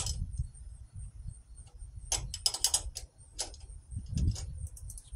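Metal clicks and ratcheting ticks from a wrench loosening the valve adjuster on a riding mower engine, close up, a few quick bursts over a low background hum.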